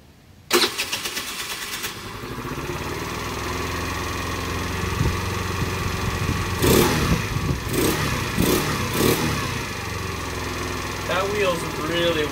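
A cheap scooter engine cranks and catches with a sharp burst, then runs at a rough, buzzy idle that sputters and surges. Short bursts of talk come in over the engine.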